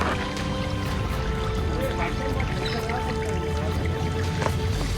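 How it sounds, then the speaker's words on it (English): A small creek flows steadily along a forest trekking trail toward Antharaganga waterfalls, its continuous broadband rush and trickle close by, with faint voices in the background. "Finally we found a small creek here."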